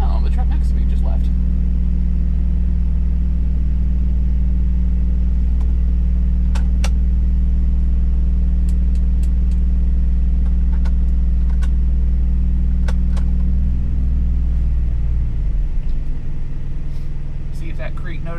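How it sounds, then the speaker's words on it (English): A large vehicle's engine rumbles steadily nearby, then the low drone shifts and fades as it pulls away; brief clicks and faint voices sit on top. "the truck next to me just left"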